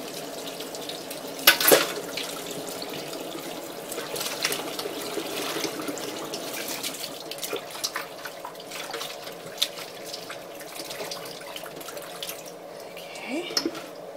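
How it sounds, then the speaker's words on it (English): Running water from a kitchen sink tap splashing over pickles being rinsed, a steady close gush with occasional clatter and splashes, no clear talk. "I think I'll probably dump them back in a bowl so I can rinse them really good."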